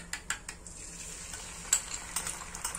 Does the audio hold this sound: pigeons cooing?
no